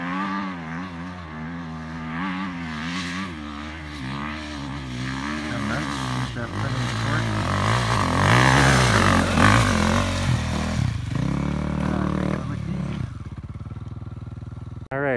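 A 2018 Husqvarna 450 dirt bike climbs a hill at the Nelson, Nevada hill climb, its engine revving up and down in surges and building to a loud peak before dropping away, heard from a moderate distance.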